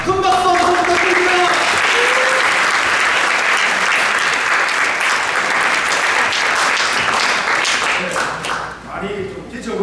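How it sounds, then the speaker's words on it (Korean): A dense round of applause from an audience at a new union members' training session welcomes a speaker, loud and sustained for several seconds before tapering off, with a voice briefly heard over it. "큰 박수 한번 부탁드립니다."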